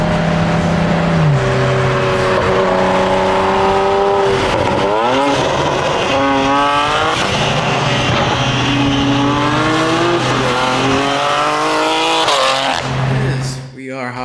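A loud car, a JB4-tuned BMW X3M or a cammed Corvette Z06, screams through sustained acceleration with rising and shifting engine pitch across gears, close and dominant throughout, ending in a sudden drop.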